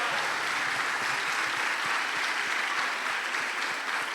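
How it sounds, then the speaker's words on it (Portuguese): Steady applause from a church congregation welcoming a pastor at an evening worship service, an even wash of clapping throughout, moderately distant with no voices. "Você pode aplaudir o Senhor pela vida dele."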